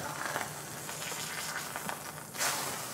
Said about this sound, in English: We're gonna sear it for 2 minutes on the other side.